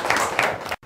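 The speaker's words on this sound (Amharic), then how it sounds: "አጨብጭቡላት።" Students in a classroom clap for a classmate, a dense burst of applause with a brief gap near the end before it resumes.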